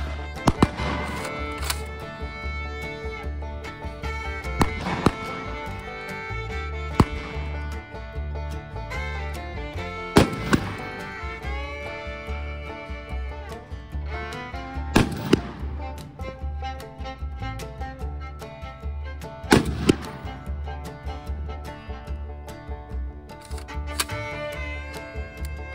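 Suppressed .22 shots from an M16 lower fitted with a Boss Tech upper, a string of sharp muffled cracks spaced every few seconds, some in quick doubles, over a steady low hum.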